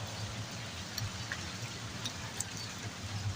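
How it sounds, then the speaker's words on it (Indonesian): Rain falls steadily at a rural boarding school, a soft continuous hiss with occasional faint drips, fairly quiet and even throughout. "seperti sekarang nih, situasi kondisi hujan di pondok"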